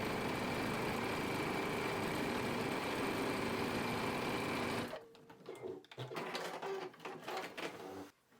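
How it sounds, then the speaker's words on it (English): Sewing machine stitching a long seam through two pieces of scrap fabric laid right sides together, a fast, steady mechanical whir running loud and close for about five seconds before stopping, followed by fabric handling and light clatter. "Place these 2 fabrics with right sides together and sew along one long end."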